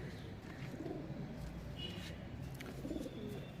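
A male Kaldum pigeon in a loft gives faint, low cooing beneath a steady murmur of background noise.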